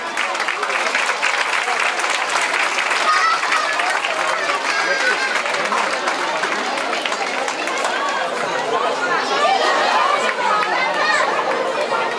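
Warm audience applause at a classical swimming demonstration, steady dense clapping from a crowd that runs unbroken throughout, mixed with chatter and scattered voices.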